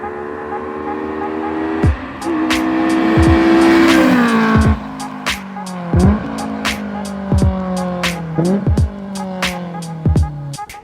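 A Honda S2000 AP1 sports car drives a touge mountain road, its engine revving up and down through repeated gear changes with short bursts of tire squeal, loud and close throughout.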